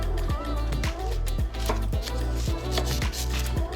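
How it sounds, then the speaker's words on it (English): A knife slices corn kernels off the cob on a board, giving a series of close, crisp cutting strokes at a steady rhythm, each a short scraping crunch, with a low steady hum underneath. "slice through as close to the cob as you can"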